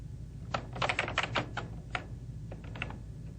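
Quick bursts of computer keyboard typing as text is entered into Word 2000, close and fairly quiet, with uneven clusters of keystrokes and short pauses between them.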